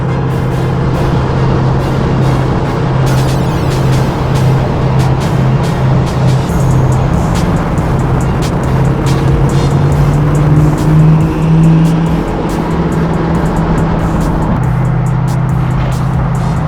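Hennessey Venom F5 Roadster engine running at around 4,000 RPM, a steady loud low drone with a slight rise in pitch near the middle, continuous for the whole stretch with no voices.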